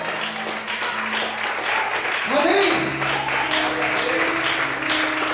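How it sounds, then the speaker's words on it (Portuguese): A church congregation applauds during a worship service. Steady clapping blends with voices calling out, and a spoken word rises over the crowd partway through. "Você pode aplaudir o Senhor bem forte."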